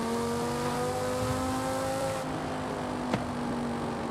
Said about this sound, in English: Sounds like a real V10.